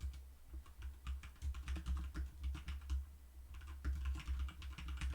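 Rapid, irregular typing on a computer keyboard, close and clear over a low steady hum, with brief pauses between bursts of keystrokes; no talking.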